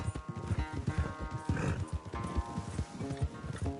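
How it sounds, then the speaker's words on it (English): A horse gallops in Red Dead Redemption 2 on PS5. The rhythmic clip-clop of hooves drums steadily and quickly at moderate volume, over other faint game sounds. "Se meu cavalo não cansar antes."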